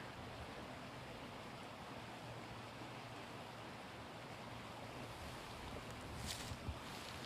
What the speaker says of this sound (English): Water's flowing so nicely now, isn't it?